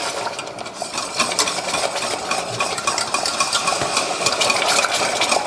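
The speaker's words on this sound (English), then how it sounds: "we're going around the edges of the pan to bring all the sugar crystals in" Sugar being stirred around the edges of a pan while making salted caramel, a steady dense scraping and sizzling texture that runs continuously and fairly loud, with no voices.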